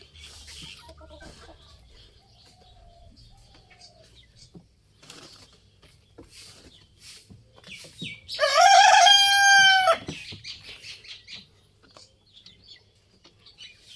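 A village rooster crowing loudly and close for about two seconds, amid soft scattered clucking and rustling from hens in a rural Bangladeshi yard.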